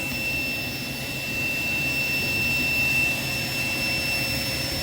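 A private jet's engine produces a steady, loud roaring whine with a constant high-pitched tone, unbroken and close by, with no speech over it.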